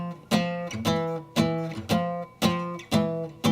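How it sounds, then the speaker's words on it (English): Jazz rhythm guitar strummed in steady rhythmic stabs, about seven sharp chord attacks with short decays, close and clear with no voices. "I'll start out playing the single note, doing thirds and sevenths, and then build the orchestration to the larger chord"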